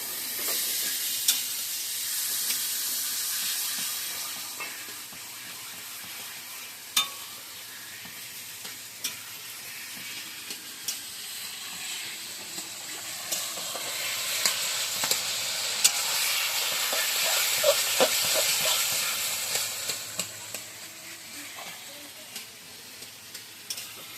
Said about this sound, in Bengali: এবার ভালো করে নাড়বো।